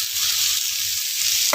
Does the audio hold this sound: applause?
no